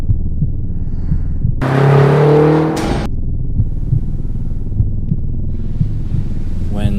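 A 2015 BMW X6 M engine on the Portimao racetrack surges loudly for a couple of seconds as it roars past. Steady wind buffeting on the microphone fills the sound before and after the pass.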